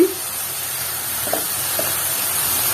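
Cabbage and mixed vegetables sautéing in a pan for lasagna, a soft steady hiss of frying with a couple of faint stirring scrapes, close and low-level throughout.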